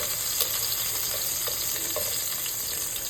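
Sliced eggplant frying in a pan with olive oil, a steady close sizzle with scattered small pops and stirring sounds, no talk.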